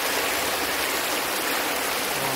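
The stream at Talakona waterfall flows in a steady, loud, broadband rush close by, with no break and no other sounds.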